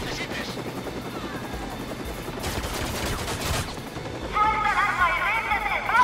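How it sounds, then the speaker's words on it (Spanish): Gunfire from the video game Watch Dogs 2, with bursts of shots over a steady helicopter-like drone, growing louder toward the end while a player talks over the action. "Muchos disparos."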